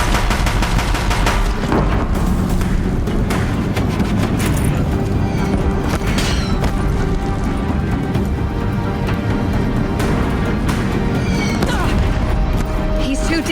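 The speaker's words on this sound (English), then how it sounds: "If the Deathbringers keep firing," Deathbringer machines firing near a bridge in Horizon Zero Dawn, loud rapid bursts of heavy gunfire and booming blasts that keep going throughout, with crashing impacts and a voice speaking over the barrage.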